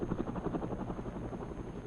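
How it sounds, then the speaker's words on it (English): A helicopter's rotor beats with a steady, rapid thumping pulse, loud and continuous, with a constant engine drone beneath and no voices. "the sound of a helicopter usually means one thing"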